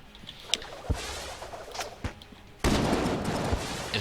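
Rapid gunfire in a boss battle against the Bullet King in the video game Enter the Gungeon, with sharp individual shots scattered over a busy game backdrop, then a sudden louder, denser burst of shooting that carries through to the end.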